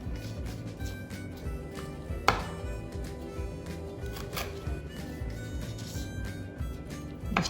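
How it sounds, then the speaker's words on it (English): A knife splits red chilies down the middle on a board, making soft, irregular cutting taps and one sharper knock, set over a steady low background hum with no talking. "And the red chili, don't take it apart, you just split them in the middle."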